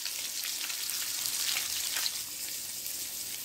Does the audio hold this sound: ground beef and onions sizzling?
yes